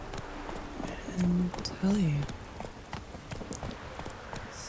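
Horse hooves clip-clop at a steady walking rhythm while riding through Toussaint in the Witcher 3 video game, with a soft-spoken voice talking over the hoofbeats.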